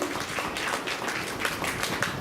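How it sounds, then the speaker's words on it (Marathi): An audience at a Diwali Bhaubeej gathering at Samarth Vidya Mandir school claps to welcome children, a steady wash of many hands applauding at moderate distance, fairly soft with no talk over it. "त्या बालचमूंसाठी आपण पुन्हा एकदा टाळ्या वाजून त्यांचे स्वागत करू"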